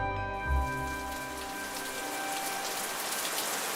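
Steady rain sound effect for a radio drama, falling as a dense even patter on a surface. A few sustained tones and a low thump open the passage, then fade under the rain, which continues alone.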